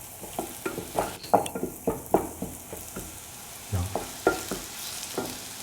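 Onions fry in a pan while a spatula stirs them in quick bursts, each stroke a clattering scrape over a soft sizzle. Close and rhythmic, with a single brief spoken word near the start.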